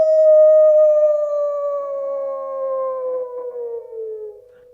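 A human voice imitates a howl as the opening of a vocal piece: one long, loud, pure sustained tone that sags slowly downward in pitch and fades near the end, alone and without other sound.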